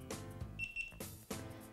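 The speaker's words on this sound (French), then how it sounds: "double bip, ça y est, c'est calibré" A Karma Grip gimbal gives a short high double beep when it finishes calibrating, close and clear between louder clattering handling noises, with no talking.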